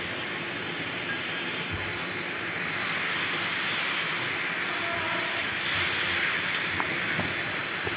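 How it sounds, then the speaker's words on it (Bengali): A helicopter in the video game Granny 2 gives a steady, droning rotor and engine whine that holds at an even level throughout, with no voices over it. "এটা হলো হেলিকপ্টার।"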